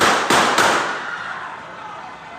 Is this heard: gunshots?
yes